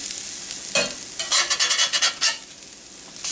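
Mexican corn fritters fry in a cast iron pan, a steady hiss broken by a burst of scraping, clattering spatula strokes and louder sizzle before it settles back.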